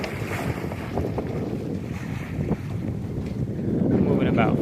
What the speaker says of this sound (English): I'm moving about 5 knots with both sails up right now